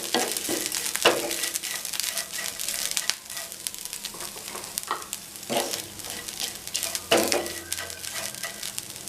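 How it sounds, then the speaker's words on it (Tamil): Coconut rice mixture being stirred with salt in a pan, with soft scraping and light sizzle in repeated close strokes and occasional sharper knocks, no talking. "இதை நல்லா மிக்ஸ் பண்ணி விட்டுடலாம்."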